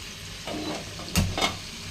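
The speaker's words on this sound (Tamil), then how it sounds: "சிக்கன் குழம்பு ஒரு டூ மினிட்ஸ் நம்ம வந்து இந்த லைட்டாக வந்து கொதிக்க வைக்க போகிறோம்" Chicken curry simmering lightly in a pan, giving a low steady bubbling sizzle broken by a couple of sharp stirring clanks near the end, with no one speaking.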